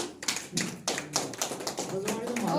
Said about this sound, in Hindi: मैं जोरदार तालियां